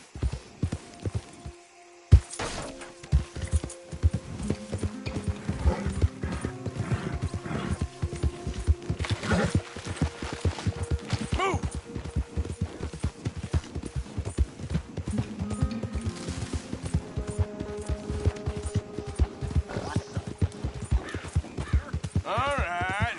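A horse gallops in the video game Red Dead Redemption 2, with continuous rhythmic hoofbeats and occasional snorts or whinnies under light ambient game sound.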